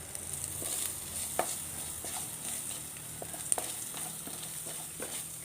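Spice powders, including roasted fenugreek powder, fry quietly in a pan with a soft, steady sizzle, broken by a few sharp scraping clicks as they are stirred. No one speaks.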